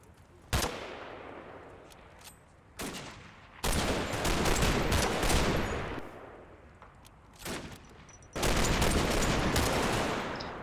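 A section of infantry returns fire in the wartime strategy game Combat Mission, with dense sustained bursts of rifle and machine-gun fire rolling in repeated loud waves and brief lulls between, near and without talk.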